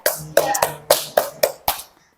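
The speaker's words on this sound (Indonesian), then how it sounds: "Tepuk tangan untuk Dokter Franz dan Moreland." At a 2024 teacher-training (PPG Daljab) event, about seven sharp, loud claps ring out close by in a fairly even rhythm, then stop, leaving brief silence.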